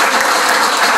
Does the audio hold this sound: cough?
no